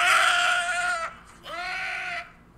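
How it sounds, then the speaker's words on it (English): A recording of a dying deer's distress cries plays: two loud, harsh, drawn-out bleating wails separated by a brief pause. "The torture cries of a dying deer, Custard."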